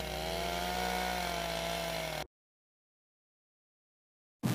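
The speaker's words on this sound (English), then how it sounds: "the tool every bar should have, a chainsaw." Chainsaw engine running steadily at high revs, loud and close, for about two seconds, then cutting off abruptly into silence before a brief burst returns at the very end.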